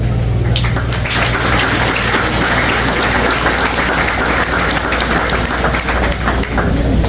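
Audience applause at a university program presentation, steady dense clapping throughout with a low hum underneath, filling the room without talk.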